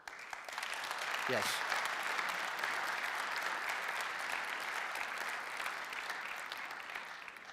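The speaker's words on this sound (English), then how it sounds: "it definitely deserves an applause" Audience applause fills the hall at the opening of a symposium, a steady, sustained clapping that continues throughout, with a brief spoken word near the start.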